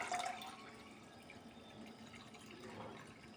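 Water trickles and drips while bajra millet is rinsed and drained through a cloth-lined sieve, a soft, steady wash of liquid with no voices, ending in a brief louder splash.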